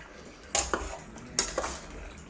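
Mutton pieces clatter and knock against a metal pot in a few sharp bursts as the curry is stirred, close up with quiet background hiss.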